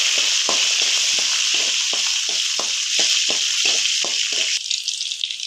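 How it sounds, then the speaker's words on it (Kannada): Curry leaves and green chillies sizzle steadily in hot ghee in a pan while preparing poha, with a string of short scraping stirs from a spoon across the frying hiss, near and loud, no voices. "ಕರಿಬೇವು ಹಾಕ್ತಾ ಇದ್ದೀನಿ. ಮೆಣಸಿನ್ಕಾಯಿ ಹಾಕೋತಾ ಇದ್ದೀನಿ. ಇವೆಲ್ಲ ಮಿಕ್ಸ್ ಮಾಡ್ಕೋತಾ ಇದ್ದೀನಿ."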